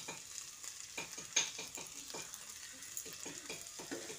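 Dried kasuri methi is stirred into a thick okra, potato and tomato curry in a hot pan, heard as a close, steady stream of spoon scrapes and soft sizzling in an irregular rhythm, with no talking.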